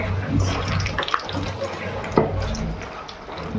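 Water runs and splashes as fish are washed by hand, a continuous close wash of flowing water with occasional drips and light knocks.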